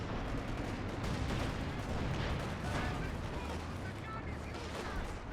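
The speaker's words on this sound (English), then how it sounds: "Firefly returns fire, but one last salvo." Tanks firing in a Company of Heroes 2 battle, dense rumbling gunfire and artillery booms layered in a continuous loud barrage of overlapping shots.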